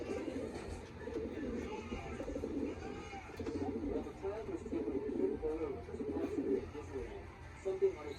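Pigeons cooing steadily in a loft, soft low throaty calls repeating close by over a constant background hum, with faint chirps mixed in.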